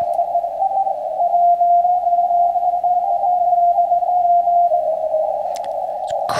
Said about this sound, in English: Let's listen to another zero beat pileup.